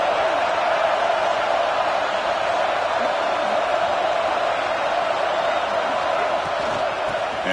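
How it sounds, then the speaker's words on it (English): Steady, dense roar of a large crowd at a Maryland Terrapins football game, cheering and murmuring continuously without pause, heard from within the stands. "Listen to the crowd energy here in the early going."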